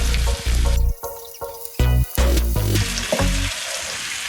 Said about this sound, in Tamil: இப்போ நான் கோழியை இப்போ பொரிக்க போகிறேன்